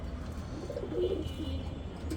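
Giribaz pigeon on a rooftop giving a soft brief coo over low steady background noise, faint and fairly distant, no voices.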